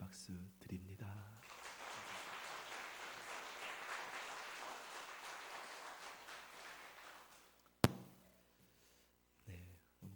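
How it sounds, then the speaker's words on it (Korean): A church congregation claps in thanks for their pastor after a sermon, moderate and continuous for about six seconds, then stops abruptly with a sharp knock as the room falls quiet. "감사의 박수 드립니다"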